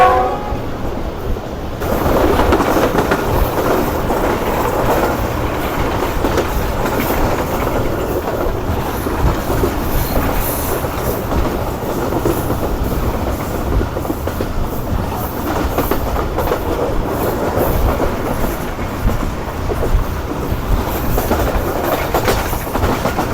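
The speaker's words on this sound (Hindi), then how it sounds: "इस वजह से ट्रेन अप्रोच बना रही है हमारी" A crowded railcar runs on the tracks as it approaches a small railway station in India, with a loud, steady rumble and rattle heard from onboard throughout, with no talking.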